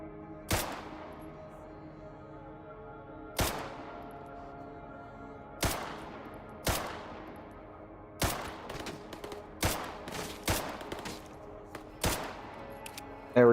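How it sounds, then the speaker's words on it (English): Gunfire in the video game Stalker Gamma: single sharp shots ring out at irregular intervals, sparse at first and then coming faster in a closer cluster, each with a decaying reverberant tail over a low ambient hum. "Someone's shooting at me from over here."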